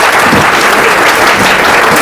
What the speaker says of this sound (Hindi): एक बार जोरदार ताली भाई साहब के लिए।